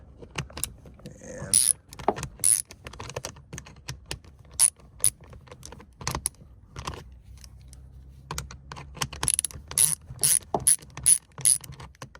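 Ratchet fitted with a 10 mm socket turning a seat bolt in a Cadillac CTS coupe, giving bursts of sharp, close clicking with pauses between strokes.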